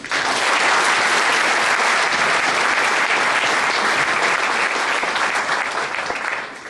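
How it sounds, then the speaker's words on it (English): Audience applauding as speaker William Taylor, a CPA, is introduced, a loud thick wash of clapping that swells quickly and holds steady before easing off at the end. "Please give your applause for William Taylor."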